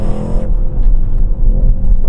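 A car engine rumbles loudly and steadily, with a deep, throaty low-end drone that eases slightly after the first half second, heard up close.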